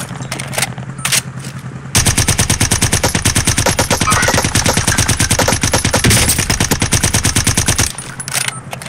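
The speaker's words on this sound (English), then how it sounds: "what are you shooting at?" A rapid machine-gun burst hammers steadily for about six seconds, loud and close, with a dense run of evenly spaced shots that starts abruptly and stops just as suddenly.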